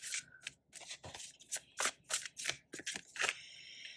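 Tarot cards handled during a reading, with short crisp papery flicks and slides, a few quick snaps and rustles close to the microphone, and no talking.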